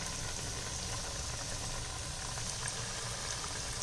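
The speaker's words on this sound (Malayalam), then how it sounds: "നമ്മൾ ഒരു ചട്ടിയിൽ ഓയിലെടുത്ത് നന്നായി ചൂടായ ശേഷം ചിക്കൻ ഇട്ട് കൊടുക്കും." Chicken pieces fry in hot oil in a pan for home-made broasted chicken, giving a steady, dense bubbling sizzle that holds even and close throughout with no talk.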